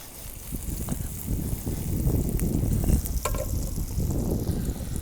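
Kale and onions sizzle and fry steadily in hot bacon fat in a pan, a dense crackling hiss with occasional sharper pops, close and continuous with no talking.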